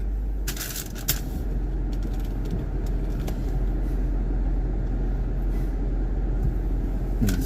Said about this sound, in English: hear a car, but I don't see a car